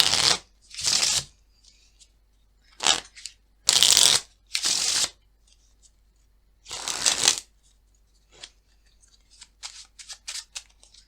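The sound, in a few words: shuffling a deck of playing cards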